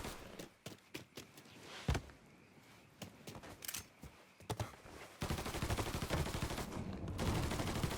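Gunfire from the video game Mafia 3: a string of sharp separate gunshots, some in quick bursts, followed by a denser, louder stretch of sustained shooting near the end.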